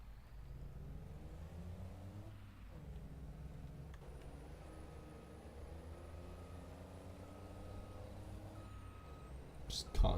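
Reversing truck in Farming Simulator 22 with its backup alarm giving evenly spaced beeps over a low engine drone, the beeps fairly faint and partly buried under the motor, with a sharp clunk at the end.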